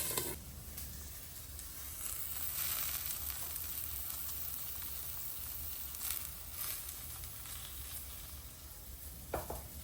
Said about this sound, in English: have them kind of fry away in the pan